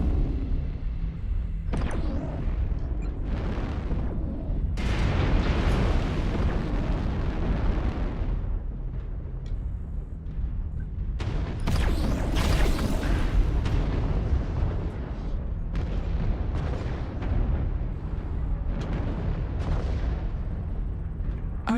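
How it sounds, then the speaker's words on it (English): Artillery strike explosions in the mech combat game MechWarrior Online, a run of repeated heavy booms and rumbling blasts across the whole stretch, loud and close, with brief bursts layered over a constant low roar. "Target spotted. Artillery strike online."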